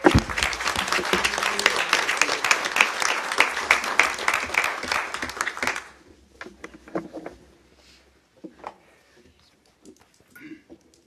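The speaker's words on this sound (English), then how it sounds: "Big round of applause." A big round of applause at a tribal council meeting, many hands clapping loudly and densely for about six seconds, then dying away to a few stray claps and quiet room noise.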